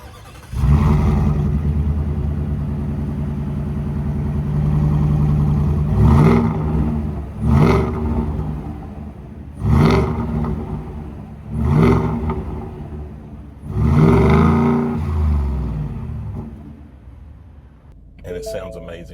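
A 2024 Shelby F150 Super Snake truck's engine runs loud and close with a steady rumble, revved in five distinct bursts that rise and fall, then cuts off near the end.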